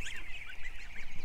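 Ducks on a farm quack in a rapid, continuous string of nasal calls, close and fairly loud, with no voices.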